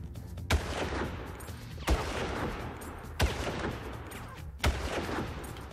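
Gunshots in the video game Far Cry, four single heavy rifle shots spaced about a second and a half apart, each a sharp boom over a low rumbling game background.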